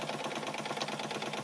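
A 1912 Märklin 4149/7 toy steam engine runs on a big gas burner, its exhaust giving a quiet, fast and even chuffing rhythm.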